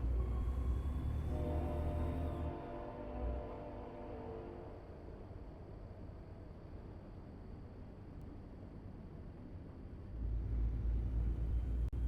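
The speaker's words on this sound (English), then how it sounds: "that train is loud" Loud train rolling past close by, its horn blaring in stacked steady tones for the first couple of seconds, then a sustained rumble of wheels and railcars that swells again near the end.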